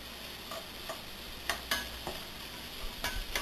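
Vegetables sauté in a pan for a Thai basil pasta sauce, a soft steady sizzle broken by a few sharp ticks and scrapes of stirring, close by and with no talk.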